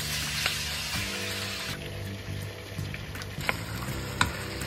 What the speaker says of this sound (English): we heat the oil in a pan and we add the beef